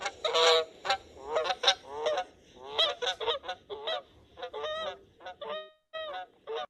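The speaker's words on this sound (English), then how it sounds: "And then here's Canada." Canada goose calls in a recording: a steady series of loud, nasal honks repeated in quick irregular bursts, close and clear with no talking.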